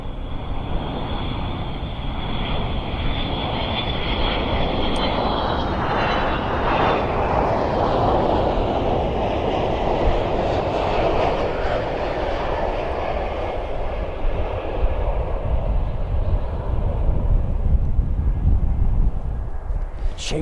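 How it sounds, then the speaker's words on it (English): A KC-135 jet tanker roars in to land at an airfield, a loud sustained engine rush with a falling whine, nearby and dominating the scene. "we've got our KC-135 coming in one more time"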